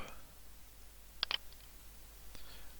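A computer mouse clicks in Dahua NVR software: a quick, close double click sounds in an otherwise quiet room, followed by a fainter single click.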